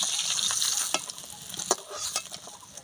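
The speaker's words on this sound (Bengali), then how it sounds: "এই মাছগুলো ভেজে নেব" Fish fry in hot oil with a steady, fine crackling sizzle. Scattered louder pops and spatters break through now and then, and no one speaks.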